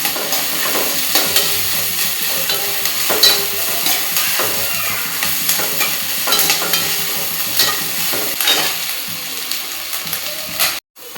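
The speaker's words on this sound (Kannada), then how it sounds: "ಇವೆಲ್ಲ ಕ್ಯಾಪ್ಸಿಕಮ್ಮ ಡೊಣ್ ಮೆಣಸಿನ್ಕಾಯಿ ಏನದಾವಲ್ಲ ಎಲ್ಲ ಹುರಿದಾವೆ" Capsicum frying in a pan for a Karnataka-style gravy, a continuous close sizzle with repeated scraping stirs, ending in a brief clatter.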